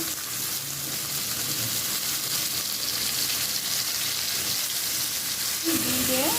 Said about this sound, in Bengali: এখন দিয়ে দিচ্ছি খাসির মাংস